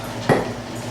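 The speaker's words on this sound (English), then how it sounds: "Use the hammer. It's so easy to work with the garlic." A hammer strikes fresh garlic cloves once, giving a single sharp, close thud against a kitchen surface over quiet room tone.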